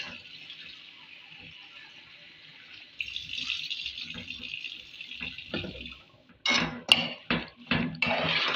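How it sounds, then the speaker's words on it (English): Water runs from a tap in a steady hiss, then is poured into a pot of Nigerian banga palm-nut stew with splashing bursts and some clinks of cookware, close by in a kitchen. "I want to add little water inside."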